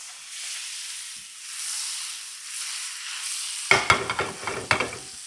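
Butter and olive oil in a pan that is a little too hot give a soft, steady hiss, then louder sharp spattering crackles near the end.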